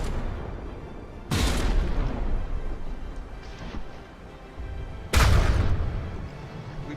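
Two heavy artillery impacts strike warships in a naval combat game, each a sudden loud boom with a long rumbling decay, separated by about four seconds over a low background rumble.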